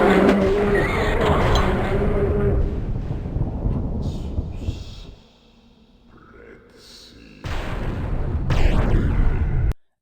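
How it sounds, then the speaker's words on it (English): Dynamite blasts in the video game Blood: heavy, rumbling booms that roll continuously, briefly drop to a quiet lull, then surge back loud before cutting off abruptly. "Yeah, dynamite explosions."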